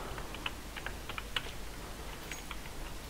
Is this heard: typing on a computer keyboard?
yes